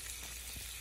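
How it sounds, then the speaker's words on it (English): Streak of lean pork searing in a pan, a steady loud sizzle and crackle of frying fat filling the whole moment. "Sear it on both sides"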